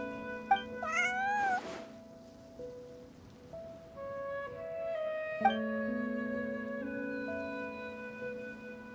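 Cat meowing in the video game Genshin Impact, a couple of short rising meows early on, then sustained tonal game music continues underneath.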